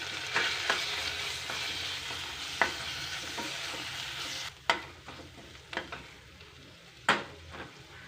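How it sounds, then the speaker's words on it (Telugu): Turmeric and ginger paste with mint sizzles steadily in a hot pan for a flat bean curry, with sharp clacks of a spoon stirring and scraping the pan at irregular intervals. "పసుపు అల్లం పేస్ట్ వేసి పచ్చివాసన పోయే వరకు ఫ్రై చేయాలి"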